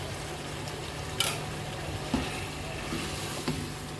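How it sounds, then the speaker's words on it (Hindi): Chicken karahi keeps up a steady, fairly quiet sizzle in the pan while yogurt goes in, with a few soft splashy stirring bumps over the constant frying hiss and no voices. "अब मैं इसमें शामिल करूंगी 4 से 5 टेबलस्पून दही।"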